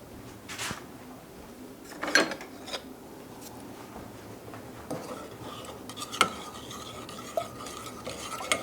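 A spoon stirs honey into peach juice, making quiet scraping with scattered sharp clinks against the container over faint room noise.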